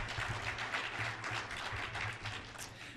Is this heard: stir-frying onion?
no